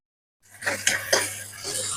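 Vegetables and spices sauté in oil for tomato rice, a metal spoon clanking and scraping in the pot in a few quick strokes after a brief silence, then a low sizzle continuing, close and fairly loud.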